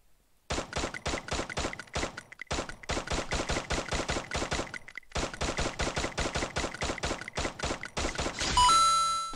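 Rapid automatic gunfire in the video game Free Fire, several long sustained bursts of sharp evenly spaced shots separated by brief pauses, loud and close, ending in a ringing tonal effect.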